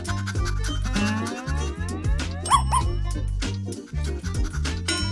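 Cartoonish dog yips, whimpers and barks in a comedic restaurant scene, heard over bouncy background music.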